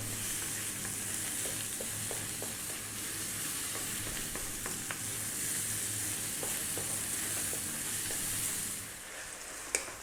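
Tomatoes frying on high heat for cheesy garlic mushroom spaghetti make a steady, dense sizzle with occasional stirring clicks, close and continuous, easing slightly near the end.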